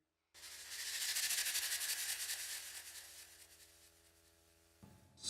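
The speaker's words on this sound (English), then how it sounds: "I have this shaker up here, this rattlesnake shake," A rattlesnake-style shaker sample plays from an SP sampler as a sustained, bright, hissing rattle with fast, even pulses. It swells in quickly, then fades gradually before a brief new attack at the end.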